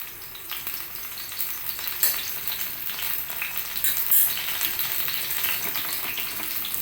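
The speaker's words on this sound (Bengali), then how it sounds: "এই দিকটা ভালো করে ভেজে নেব" Lentil and flower fritters frying in a pan, made from black gram dal and hummingbird tree blossoms, giving a loud, bubbling sizzle with scattered sharper spatters and pops, heard up close without any talking.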